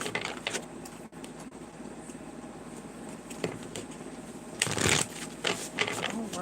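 A Moonology oracle card deck being shuffled, with soft riffling and rustling, a few sharper snaps of cards near the end, close and fairly quiet, without speech.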